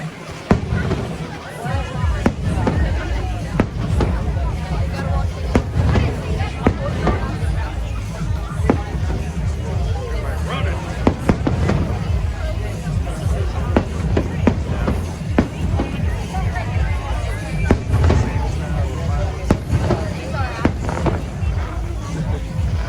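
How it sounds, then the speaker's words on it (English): Fireworks display at Dollywood theme park, with dense repeated bursts and crackles rolling steadily over a large crowd's murmur and occasional voices throughout. "Fireworks we got."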